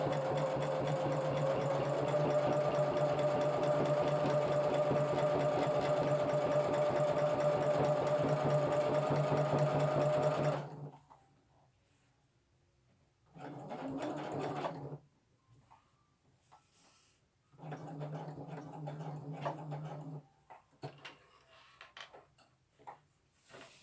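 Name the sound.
sewing machine stitching a camo pouch seam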